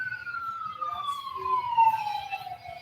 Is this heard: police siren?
yes